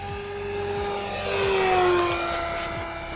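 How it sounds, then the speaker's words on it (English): A twin-motor E-Flite Beechcraft D18 RC plane with a 1.5 m wingspan, running a 4S battery, makes a full-throttle pass, a steady high propeller whine that swells and shifts pitch as it flies by. "Here's full throttle."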